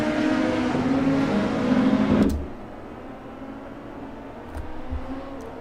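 A 1995 touring car accelerates at a race restart at Road Atlanta, its engine roar rising and then dropping away sharply after two seconds to a quieter, distant drone.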